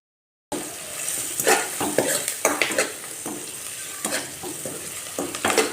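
Onions sizzle in a pan for restaurant-style dal tadka while a spoon stirs them, giving frequent scraping clicks against the metal over a constant frying hiss, with no talking.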